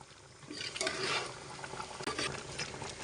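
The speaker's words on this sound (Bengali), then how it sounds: "এখন আবারও নেড়েচেড়ে নিব" Mango pickle being stirred in a pot, with soft wet patter and scraping that swells and fades over a few seconds, close by and fairly quiet.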